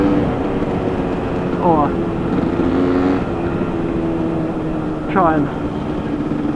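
Yamaha DT125LC motorcycle ridden in rain through puddles, its two-stroke engine droning steadily and loudly up close with brief rising gear-change whines; a rider speaks briefly over it.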